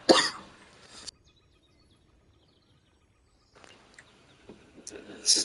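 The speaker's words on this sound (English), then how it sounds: "when I talk too much, it makes me cough" A person who has been sick for about a week coughs, with a loud harsh burst at the start lasting about a second, quiet after it, then fainter rustling and another loud cough at the end.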